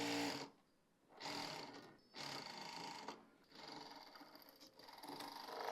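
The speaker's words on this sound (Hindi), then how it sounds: "यहाँ पर सिलाई लगाएंगे" A sewing machine stitches fabric for plazo pants. It runs in several short bursts of steady whirring separated by brief pauses, heard up close with no talking.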